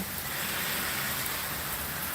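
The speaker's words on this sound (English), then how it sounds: "You can see the rain is pooling up on the porch here." Heavy rain pours down in a dense, steady hiss with no break, close and loud.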